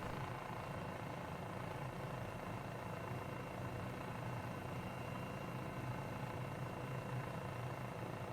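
An MD500 helicopter engine in a flight simulator, a steady dense whine and rotor rumble droning continuously at even loudness from start to finish, with no talk.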